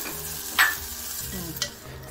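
Ambemohar rice and masala sautéing in a pan, a soft continuous sizzle with two quick scraping clicks of a spoon against the pan, close and fairly quiet.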